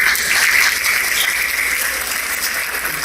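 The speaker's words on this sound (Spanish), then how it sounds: "Fuerte el aplauso." Audience applause at a civic policing and justice forum, a steady dense wash of clapping that stays loud throughout with no talk over it.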